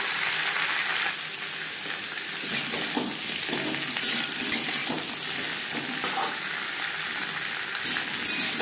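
Raw papaya sizzles with tempering spices in a hot pan, a steady close frying hiss broken by occasional louder stirring scrapes.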